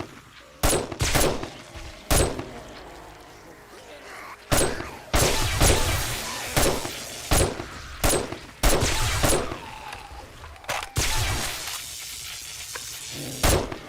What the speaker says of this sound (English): I like how I shoot the zombie past them